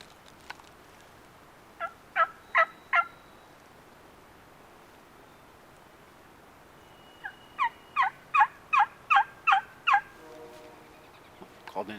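Wild turkeys gobble in Idaho woods: a distant rapid gobble of four quick pulses, then a longer rolling burst of about eight pulses after a pause. The surroundings are otherwise quiet.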